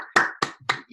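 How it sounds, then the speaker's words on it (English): Applause for an origami master at the close of a paper-folding session: several sharp bursts of hand clapping, close and fairly loud, with short gaps between them and no talk. "let's give George a nice round of applause."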